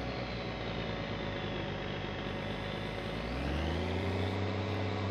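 A truck engine idles while warming up in My Summer Car, a steady low drone that deepens and grows a little louder near the end, close and continuous with no talk.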